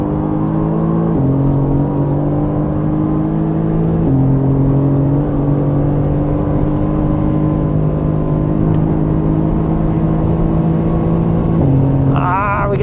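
Mercedes-AMG GT R accelerating hard on the Nürburgring: loud, close engine drone that holds steady pitch with a few abrupt drops at gear changes, and no talking.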